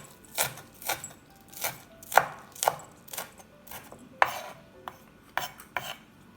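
A knife chops through a block of tempeh on a board, about a dozen crisp, evenly spaced thuds in a steady rhythm, close and clear with no talking.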